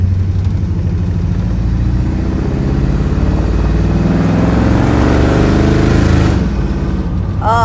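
A 1957 Ford Fairlane's engine hums steadily while driving, a loud, continuous low rumble that swells slightly under throttle, with no talk over it.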